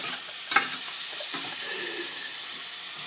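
Meat frying in a pan sizzles steadily with stirring, a brief sharp clatter near the start, then a continuous hiss to the end.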